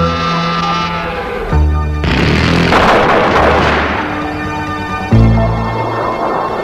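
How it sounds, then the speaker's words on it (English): A GAU-13 30mm Gatling gun, a rotary cannon firing about 2,400 rounds per minute, lets out loud sustained buzzing bursts with a harsh roaring blast in the middle, close and overwhelming with no talk. "Since it's a Gatling gun, the GAU-13A has tremendous firepower"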